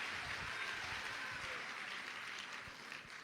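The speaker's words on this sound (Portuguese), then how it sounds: "Você está aplaudindo, né?" A church congregation claps during a year-end communion service, a steady wash of applause heard from a moderate distance throughout.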